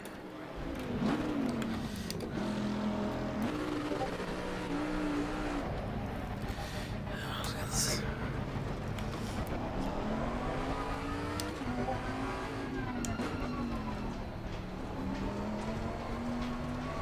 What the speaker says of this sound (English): Start that on, and let's just drive briefly.